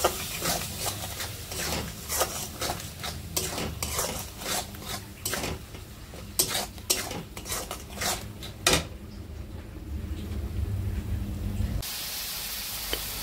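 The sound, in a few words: spices being fried and stirred in a pan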